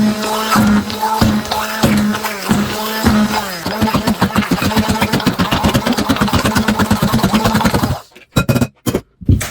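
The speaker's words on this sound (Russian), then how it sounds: "и взбиваем блендером." A blender whips cottage cheese pancake batter with a loud, close motor whir that pulses rhythmically as the blades churn, then cuts out into a few short bursts before stopping.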